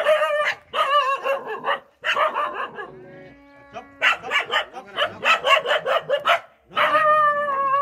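A dog barks on a farm in a run of loud, close, repeated barks and yips, with a short pause partway through.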